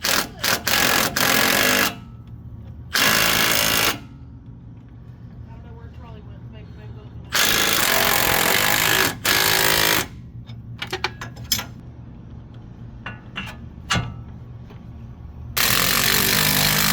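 Power impact tool tightening bolts on a 2007 Chevrolet Tahoe, loud harsh hammering bursts a couple of seconds long separated by quieter gaps, close by.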